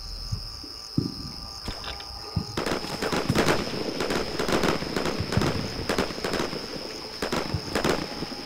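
Sustained rattling automatic gunfire from Marines laying down suppressive fire in the tactical wargame Combat Mission Shock Force, dense overlapping bursts at a steady mid distance over a constant electronic whine, no talking.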